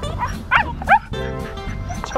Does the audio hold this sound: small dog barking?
yes